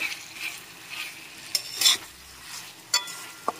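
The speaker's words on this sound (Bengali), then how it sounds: "এখন একটু ভালো করে নেড়ে চেড়ে নিতে হবে।" Vegetables with ginger-garlic paste being stirred in a frying pan, a soft steady sizzle under a few sharp utensil scrapes and taps against the pan.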